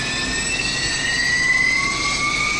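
Aircraft jet engine number one spooling up at start, a loud steady whine with rising tones over a broad roar, heard up close with no talk.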